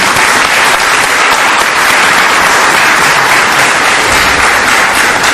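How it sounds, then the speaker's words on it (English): Loud, dense applause from a large audience at a talk, steady and continuous throughout without pause. "please give yourselves a round of applause"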